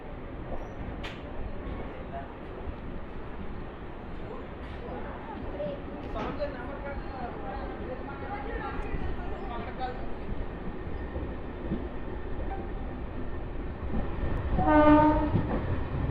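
A MEMU express train pulling out of Bobbili Junction, its steady rumble and rattle heard from on board for a long stretch, with a brief horn-like tonal burst near the end.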